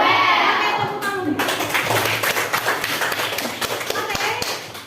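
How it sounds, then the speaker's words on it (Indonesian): A school class claps hands together, the sharp individual claps ringing out fairly close and uneven, with children's voices mixed in underneath. "tepuk tangan"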